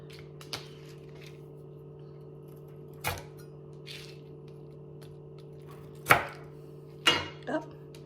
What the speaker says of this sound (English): I'm going to go ahead and cut a bunch of these down. Lay them on my little cutting board.